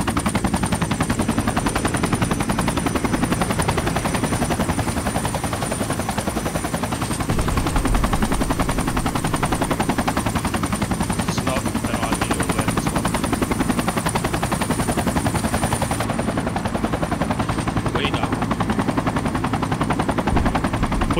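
Helicopter in the Project Reality military game, a loud steady rotor thrum with dense rapid chopping that stays close and continuous, with faint bursts of machine-gun fire mixed underneath.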